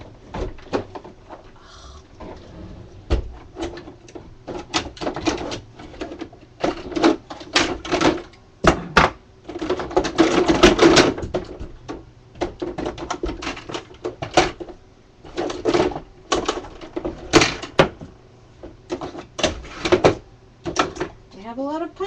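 Hands rummage through a crafting drawer full of paper punches, making repeated clacks, rattles and knocks of plastic and metal, with a person talking throughout.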